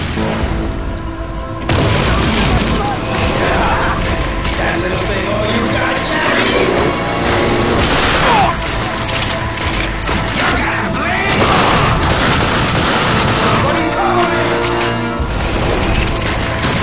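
Gunfire fills The Darkness 2 video game fight in a dense, loud and nearly unbroken barrage of shots and booms, with heavy impacts layered over game music.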